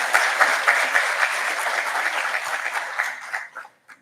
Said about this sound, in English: Can we hear a round of applause for him?